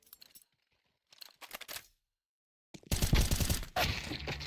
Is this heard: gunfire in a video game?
yes